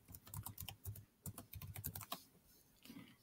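Quick clattering keystrokes on a Chromebook keyboard as a Wi-Fi password is entered, a burst of close, fast clicks with a short pause, then a few more taps.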